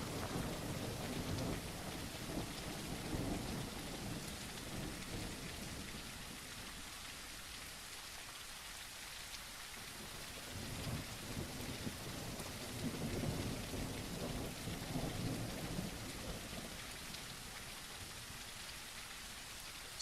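Steady rain pours down in a video game under development, with low rumbling swells like distant thunder rolling through a continuous, dense wash of drops for about twenty seconds, no voices.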